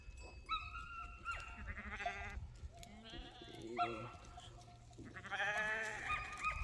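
Several goats bleat in turn, loud and close, each call a wavering nasal cry separated by short pauses, with faint rustling of the farm herd between calls.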